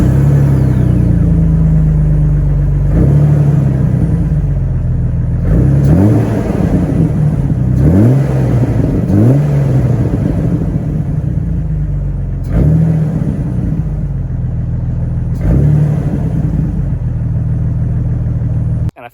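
A Jeep TJ's 4.0 engine runs with a deep, loud rumble close by, rising in several repeated revs before settling back to idle between them, with no one speaking.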